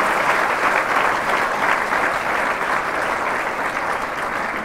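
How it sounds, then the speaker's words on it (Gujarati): Steady, dense applause from an audience filling a community hall, many hands clapping loudly and evenly without pause for several seconds. "આ તાળી મારે પાડવાની, તમારે થોડી પાડવાની, મારા વતી તમે પાડી લો"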